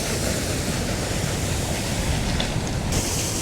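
A waterfall rushes close by outdoors, a dense continuous roar of falling water with no other sounds, steady and full throughout.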